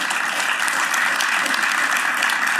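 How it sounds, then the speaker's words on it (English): An audience at an EV business event in Berlin applauds Mate Rimac, a dense, steady burst of many hands clapping throughout, loud and close with no pause. "I think that needs another big round of applause"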